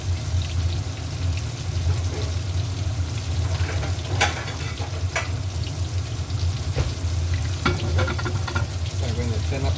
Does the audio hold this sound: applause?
no